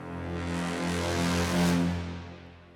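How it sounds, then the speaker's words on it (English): Sustained brass-like swell from a free software plugin, used as a subtle transitional effect in a metal track; it holds steady tones, rises in the middle, then fades out, with no voices. "Just like a brass effect"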